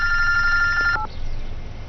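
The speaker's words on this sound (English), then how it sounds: "I think you have a phone call." A telephone rings loudly in a single electronic trill lasting about a second, then cuts off, leaving only quiet room tone.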